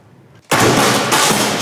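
A confetti cannon fires from a festive Skoda Kodiaq with a sudden loud blast that spreads into a sustained, crackling burst of noise.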